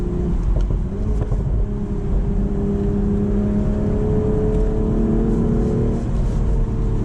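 A 2023 BMW Z4 M40i accelerating on a highway, its engine holding a loud, steady drone that rises gradually in pitch, heard from inside the cabin with a constant rumble of road and wind, no talking.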